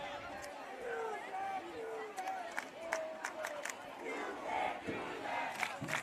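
Crowd at a night high school football game between Spencer County and Henry County, a distant roar of cheering and shouting with scattered claps and whistles, rising and falling in waves.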